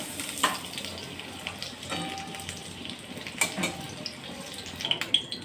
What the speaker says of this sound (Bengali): পটলগুলো ঢাকনা দিয়ে ভেজে নিচ্ছি